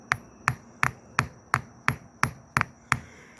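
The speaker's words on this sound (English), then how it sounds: "you can tap it in a little bit to get it started" Nine evenly spaced hammer taps drive the tapered rocker locker part into place on a 1989 Harley Sportster, each a sharp close metallic knock, steady rhythm with quiet gaps between, no talking.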